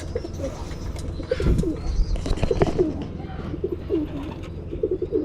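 Pigeons cooing softly in a loft with young birds, low repeated coos and rustling spread through the clip, with faint background noise and no clear talk.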